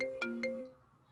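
Phone ringtone, a short two-note electronic chime that sounds quietly and fades out within about a second.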